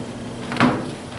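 A single dull thud of a door closing in a county board meeting room, short and fairly close, against a steady background hum.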